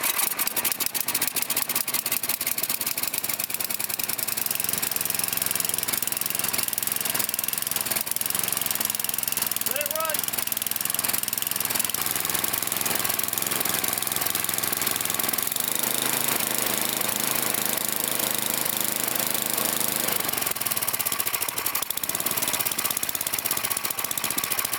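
A Tecumseh 9 hp engine on a snowblower idles after starting, a loud, close, rapid chugging with a rough knocking pulse that runs steadily throughout.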